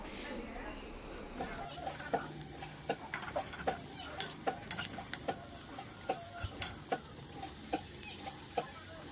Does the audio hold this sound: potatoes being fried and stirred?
yes